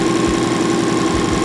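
An abandoned project car's engine runs at a steady idle near 1,300 RPM, a loud continuous hum and drone with a faint rhythmic knock, close by.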